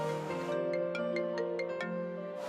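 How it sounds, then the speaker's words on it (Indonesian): A phone ringtone plays a bright electronic melody of repeated tonal notes in a rhythmic pattern. It sounds fairly close and clear, with no talk over it, in an Indonesian TV drama scene. "Bentar, ada telepon."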